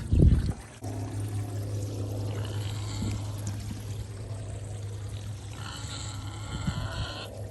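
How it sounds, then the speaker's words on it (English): After a brief thump, water pours steadily in a continuous stream while refilling the animals' water on an Ozark homestead, with light splashing toward the end. "Also gonna take this chance to refill their water."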